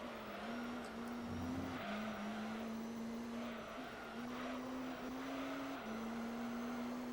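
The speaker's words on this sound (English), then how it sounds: "once you hear the engine" F1 car engines whine in a racing video game, a steady high buzzing drone that shifts pitch with gear changes, fairly faint and continuous.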